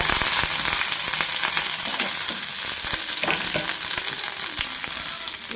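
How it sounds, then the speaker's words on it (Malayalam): Dried red chilli and curry leaves sizzle and crackle in hot oil, a dense, loud, continuous frying hiss with scattered pops, no voices. "ഒരു ചുവന്ന മുളക്, ഉണങ്ങിയ ചുവന്ന മുളക് അതൊന്ന് മുറിച്ചിട്ടിട്ട് ഒരു 2 കറിവേപ്പില"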